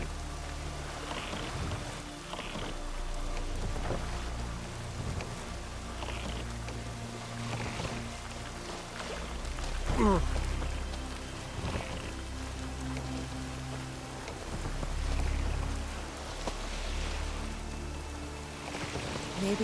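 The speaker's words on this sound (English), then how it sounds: "Maybe we needed a spot of rain." Steady rain patters on surfaces in the video game The Witcher 3: Wild Hunt, a constant wash of drops with a low rumble beneath and occasional faint knocks.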